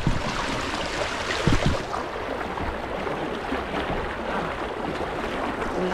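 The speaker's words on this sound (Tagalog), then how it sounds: "Lakas ng agos" Strong river current rushing past rocks, a steady broadband roar of flowing water with some wind buffeting the microphone, continuous and fairly loud throughout.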